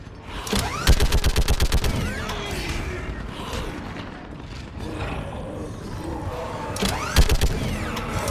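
Rapid bursts of gunfire in Mass Effect 3 crack out at the start and again near the end, set against a rumbling battlefield din of distant explosions and mechanical noise.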